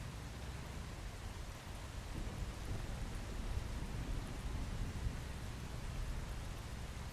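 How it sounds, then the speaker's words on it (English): Rain falls steadily in the video game Once Human, a constant soft hiss of drops on the ground with a low rumble beneath, even and unbroken throughout. "It's been raining a lot in game."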